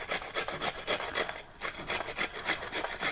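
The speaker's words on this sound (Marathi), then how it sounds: "तर आपण आता हा पूर्ण कांदा खिसून घेऊया." A whole onion is rubbed by hand against a grater in quick, even back-and-forth strokes, each a rasping scrape, with a short pause midway before the rhythm resumes; no one speaks.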